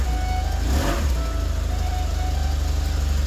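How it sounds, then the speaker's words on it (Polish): A BMW R1150 motorcycle engine runs on a dyno, a steady, even throbbing drone at close range with a brief swell of revs early on, alone without talk. "Silnik teraz pracuje bardzo spokojnie, równo i płynnie wkręca się na wysokie obroty."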